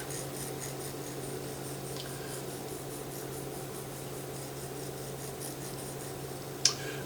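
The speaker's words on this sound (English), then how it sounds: "just a few swipes up and down in there to sharpen that steel is all that's necessary" A file swipes up and down inside a steel hook tool to sharpen the inner bevel with the half-round side. The soft rasping strokes run steadily under a constant background hiss, ending with one brief sharp click.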